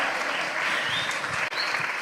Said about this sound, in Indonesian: Kasih tepuk tangan yang meriah dong.